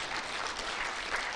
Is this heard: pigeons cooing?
no